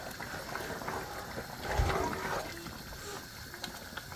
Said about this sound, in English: So guys, it's been boiling.